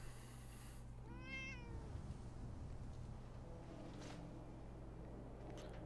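A cat meows in the video game Fallout 4, one clear rising and falling meow near the start, set against a steady low game ambience hum that continues throughout.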